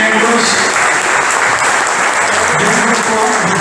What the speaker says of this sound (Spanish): los despedimos con un caluroso aplauso